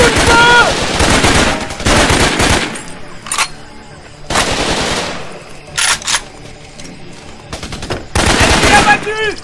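Rapid machine-gun bursts and gunshots ring out in a jungle shooter video game, Raven Squad: Operation Hidden Dagger. Several loud, sustained volleys are broken by short pauses, with brief game voice callouts in between.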